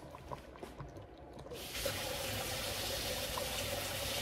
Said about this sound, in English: Okay, and I'm gonna add some more water to this.